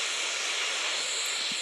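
Jet engines of an Airbus A320 in a flight simulator game spool up, giving a steady, even airy roar with a whining hiss throughout.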